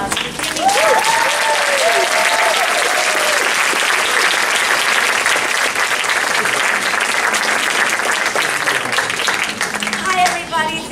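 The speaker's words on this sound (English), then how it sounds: "Big round of applause for Jimmy." An audience at a Taste of Broadway show applauds the director, loud sustained clapping filling the room, with a few voices and cheers mixed in throughout.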